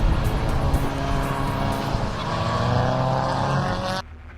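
Race cars roar together on a rolling start at the Brands Hatch GP circuit, a loud, dense engine drone with shifting pitch that cuts off abruptly near the end.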